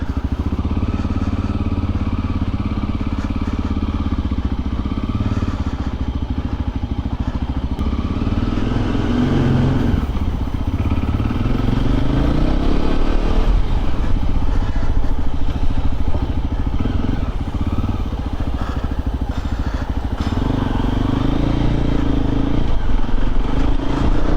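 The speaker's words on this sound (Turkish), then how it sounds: "Evet ilk marş gidiyoruz hadi hayırlısı." Voge Rally 300GY adventure motorcycle engine started for the first time and left idling, a loud continuous single-cylinder burble with slight revving variations and mechanical clatter, close by, with no talk over it.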